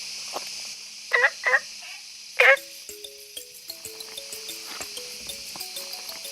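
A frog calls at night beside a clear forest pond, giving a few short, sharp croaks early on, followed by a soft scatter of faint clicks and chirps over a quiet background.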